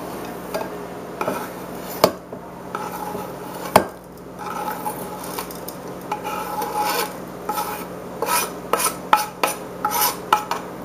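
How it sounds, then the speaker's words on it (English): Spices being stirred into olive oil in a dish, giving scraping, rasping strokes and occasional clinks of utensil against the bowl in irregular bursts, close and fairly loud, no talking. "I'm putting in all of the spices."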